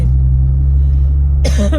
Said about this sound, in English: What is going on at 10:50 in the morning that there's a school bus?